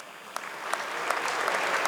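A crowd at a stage event claps for an honoured guest, a brief burst of steady, moderately loud applause with a few sharper individual claps standing out.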